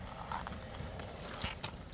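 Horse hooves clip-clop faintly and irregularly over a steady background hiss, distant and with no talk.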